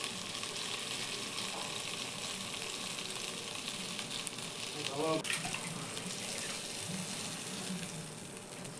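Chicken pieces frying in oil for a Kerala-style curry make a loud, continuous close-up sizzle and crackle, with a brief scrape of a utensil about halfway through.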